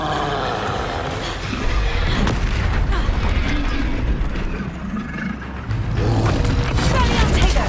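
Booming magical blasts and crackling spell impacts from Bombarda and other combat spells in Hogwarts Legacy, heavy rumbling explosions layered with clattering debris, with a voice shouting over them.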